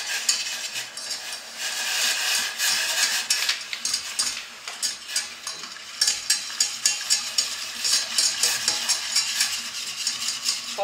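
A spoon stirs pineapple gelatin in a saucepan, making steady rhythmic scraping and swishing strokes that grow more regular toward the end, with no talking.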